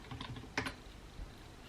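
A short burst of typing on a computer keyboard while searching for an I-94 arrival and departure record, with quick, quiet keystrokes clustered close together.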